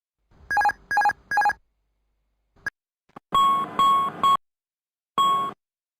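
Airbus A320 cockpit alarms sound during an electrical failure: three quick repeated beeps, a brief pause with a short blip, then a series of longer electronic tones in uneven bursts, loud and close.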